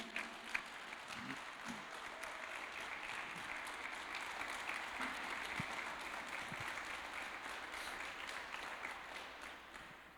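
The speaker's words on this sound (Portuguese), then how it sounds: "Vamos dar uma salva de palmas para Jesus?" A congregation applauding during a Sunday church service, sustained rapid clapping from many hands filling the room for about ten seconds, moderately loud and steady without talk.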